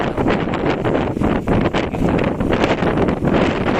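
Steady typhoon wind in Quezon Province buffeting the microphone, a continuous loud rushing roar with gusty surges throughout and no voices.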